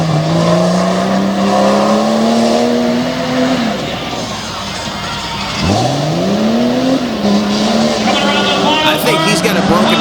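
A truck at a dirt mud-truck race starting line in Greensburg, Pennsylvania, running with a broken front differential, its engine revving loudly in rising and falling surges, with tire noise and a voice in the background.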